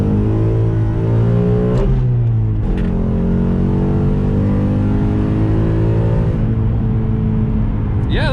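A 2018 Ford Mustang with a revised transmission accelerates from inside the cabin, its engine droning and climbing in pitch through two gear shifts, then settling into a steady loud rumble.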